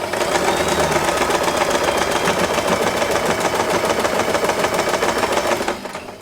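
A sewing machine runs steadily while stitching the last seam of a double-layer fabric bow, a fast continuous mechanical whir with rapid needle chatter that stops abruptly near the end.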